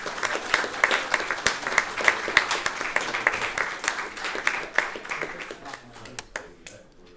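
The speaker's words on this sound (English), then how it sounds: "You can give them a round of applause there" An audience applauds at an apprenticeship graduation ceremony, with a sustained round of clapping of moderate loudness that thins and fades out near the end.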